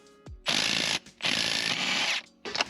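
An impact driver loosening the crankshaft bolt on a Toyota 4AGE engine in an MK1 MR2, with two long loud rattling bursts separated by a brief pause, then a short third burst, close up.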